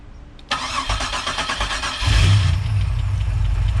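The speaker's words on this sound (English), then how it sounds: "Let's give her a fire." A supercharged Pontiac Bonneville SSEi L67 engine with a cam and intercooler cranks and fires up loudly, then settles into a deep, steady rumbling idle with strong low-end growl.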